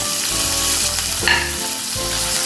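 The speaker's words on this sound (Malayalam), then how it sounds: "ഇതുപോലെ വഴറ്റി കൊടുക്കാം നേരത്തെ കട്ട് ചെയ്ത് മാറ്റി വെച്ച ഇഞ്ചി വെളുത്തുള്ളി പച്ചമുളക്" Ginger, garlic and green chilli sauté in a hot pan for fish molly, giving a loud, steady sizzle close up with stirring scrapes throughout.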